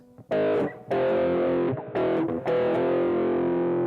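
Loud distorted electric guitar power chords strummed in several bursts, ringing out with brief gaps between them, no voices.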